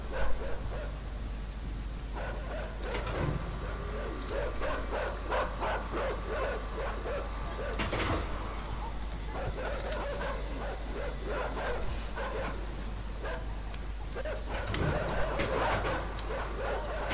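Dogs barking in the dark side-scrolling game Inside, repeated yips and barks from several animals at close range, steady through the stretch over a low constant hum.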